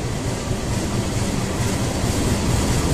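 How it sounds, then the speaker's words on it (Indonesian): A locomotive at Manggarai station in Jakarta gives a steady, loud rumble with broadband rail noise that holds evenly throughout, close by, with no talking. "Lokomotif aja ini."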